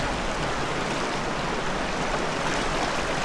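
Steady, broadband rushing of flowing river water with a mild current, constant and fairly close, with no voices.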